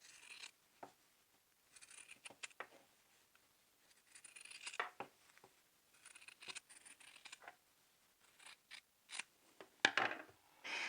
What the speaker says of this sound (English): then you're going to cut away about half of your seam allowance